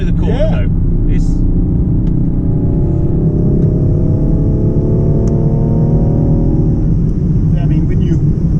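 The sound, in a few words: Rolls-Royce Wraith Black Badge car driving through a corner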